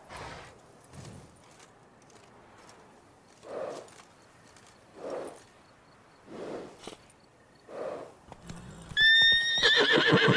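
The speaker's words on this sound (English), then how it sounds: "Yeah, it's just a horse with a thing tied to its head." Horse in The Witcher 3: Wild Hunt snorting and shuffling in several separate bursts, then ending in a loud, clear neigh with clip-clopping hooves near the end.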